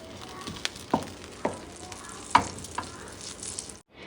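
Butter sizzles gently in a pan, a low crackle punctuated by several distinct spoon or utensil clicks, ending in a brief silence.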